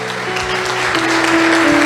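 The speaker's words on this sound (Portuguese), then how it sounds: "A igreja dê uma salva de palmas e glorifique o Senhor." Church congregation applauding, a dense steady burst of clapping from many hands filling the room, with a faint sustained tone underneath.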